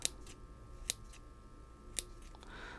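Three crisp snips of scissors trimming dead stems off a potted myrtle, spaced about a second apart, close and clear in a quiet room.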